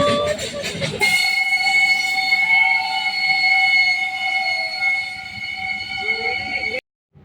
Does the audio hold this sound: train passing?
yes